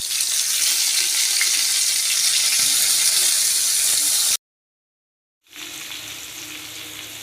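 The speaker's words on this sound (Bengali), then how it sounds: "তেল গরম হয়ে গেছে আমি পটল দিয়ে দিলাম এবারে নুন দিয়ে দিচ্ছি পটলটা ভেজে নিচ্ছি" Slices of pointed gourd (potol) fry in hot oil with salt, a loud steady sizzle that cuts out abruptly to silence for about a second, then resumes slightly softer.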